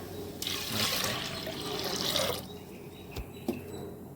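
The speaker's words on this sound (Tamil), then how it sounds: "இப்போ தண்ணி போட போகிறேன்" Water pours into a cooking pot holding dal for sambar, a close splashing gush for about two seconds, then a few faint drips and clinks.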